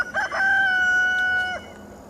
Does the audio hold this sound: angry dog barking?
no